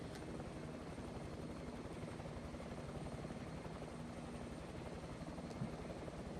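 A helicopter engine spooling up in Microsoft Flight Simulator 2024 at Lord Howe Island, a steady dense turbine and rotor roar with a faint low thrumming pulse, constant and moderately loud throughout with no talk.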